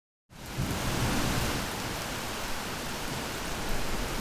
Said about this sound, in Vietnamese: mưa to thế này